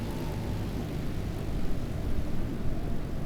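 Airplane engine in Microsoft Flight Simulator 2020 during a vertical takeoff, a steady broadband droning roar that grows slightly louder and rougher in the second half, with no voices.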